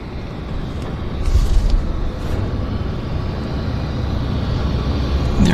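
A WestJet airliner takes off from Vancouver airport, its engine roar a steady low rumble at a distance, swelling slightly partway through and holding without voices.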